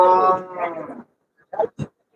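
A cow moos loudly nearby at a cattle market, a long drawn-out low call, followed by a couple of short grunting sounds.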